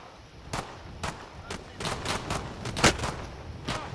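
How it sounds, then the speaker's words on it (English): Gunfire in the Call of Duty video game crackles as a string of about ten sharp shots at an irregular pace, moderately loud and close. "I'm just gonna shoot him."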